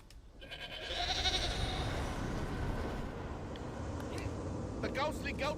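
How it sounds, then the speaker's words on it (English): Ghostly goats bleat in a fantasy video game, a drawn-out bleating cry near the start over a steady low game ambience, with fainter sounds following. "The ghostly goats of Mania were actually useful!"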